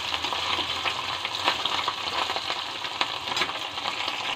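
Mourala fish sizzles steadily in hot oil in a pan, a continuous crackling hiss with small pops, close and even throughout, with no voices.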